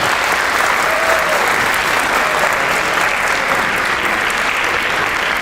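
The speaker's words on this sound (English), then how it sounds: "let's clap it up for both these groups" Crowd at a leadership summit gives both presenting groups a round of applause, a steady, dense wash of clapping lasting several seconds with no talk over it.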